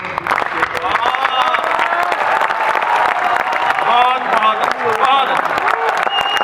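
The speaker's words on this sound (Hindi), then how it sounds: "एक बार जोरदार तालियां आशीष शरण के लिए बजाइएगा" A live audience at a Hindi poetry recital applauds the poet, with dense, sustained clapping and cheering that stays loud throughout, and voices mixed into the crowd noise.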